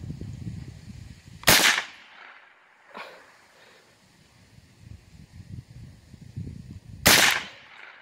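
Two sharp, loud shots from a .22 rifle crack about five seconds apart outdoors, with a fainter pop between them and quiet background in the gaps.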